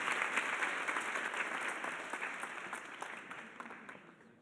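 An audience at a talk claps together in a soft, even patter that gradually fades away over four and a half seconds.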